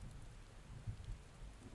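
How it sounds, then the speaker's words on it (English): Steady rainfall in the Final Fantasy XIV video game, a soft, continuous patter with low rumbling texture, faint and even throughout, with no voices over it. "it's still raining"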